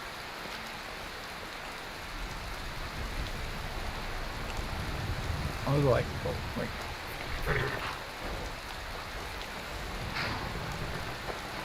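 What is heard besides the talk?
rain in the video game Skyrim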